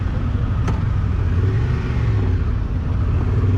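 Steady, close engine drone from a Honda XL750 Transalp motorcycle being ridden in gravel mode, a continuous low rumble with little change in pitch and no talking.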